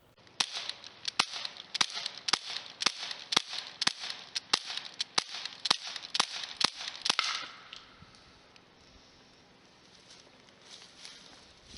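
Rapid CO2 airgun shots from an UZI-style air pistol fired without a silencer, a string of sharp cracks at a steady quick pace for several seconds, then stopping and leaving quiet room tone.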